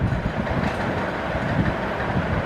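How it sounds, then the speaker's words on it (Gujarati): Shatabdi Express train number 12009, an AC chair car running from Surat to Anand, gives a steady low rumble of wheels and carriage noise with soft rhythmic rail clatter, continuous and close. "આ જો શતાબ્દી એક્સપ્રેસ ટ્રેન નંબર છે"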